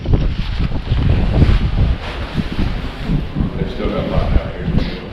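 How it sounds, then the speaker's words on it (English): Breeze gusting through an unfinished house under construction, a steady wind rush buffeting the microphone with low rumbling swells and no clear pauses. "It's nice and breezy"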